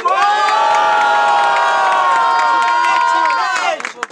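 A large crowd at a freestyle rap battle in Guarulhos cheers and shouts loudly and continuously, with whoops rising over the roar before it breaks up near the end.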